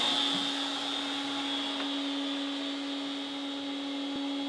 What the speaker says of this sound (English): So you can get an idea of how loud the router is before I close the lid.